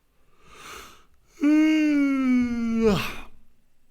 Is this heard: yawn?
yes